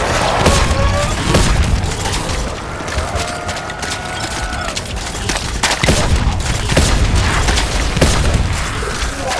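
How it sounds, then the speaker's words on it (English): Heavy cannon fire in a Black Ops 4 Zombies match on the Voyage of Despair map, a run of loud booms and blasts with mechanical clatter over steady game noise and a brief rising tone. "More fodder for my big bad cannon!"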